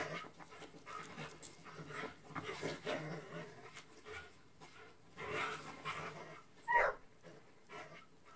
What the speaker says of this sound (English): You walking your dog pitch black where you need a flashlight.